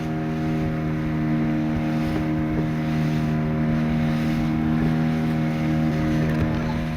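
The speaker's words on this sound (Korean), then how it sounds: "서서히 고래 곁으로 다가가는 모터배" A motorboat at sea drones steadily with a constant engine hum and tonal whine as it approaches whales, loud and close, with faint wind and water wash.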